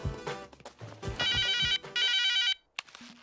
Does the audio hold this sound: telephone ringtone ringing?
yes